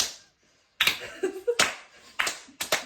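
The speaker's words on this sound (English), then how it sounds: "Why are you guys clapping?" Audience at a ladies' book club breaking into clapping, several bursts of claps and hand slaps in quick succession after a quiet pause, close and fairly loud with no talk over them.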